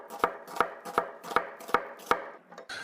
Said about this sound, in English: First, cut them in half, then just slice them like this.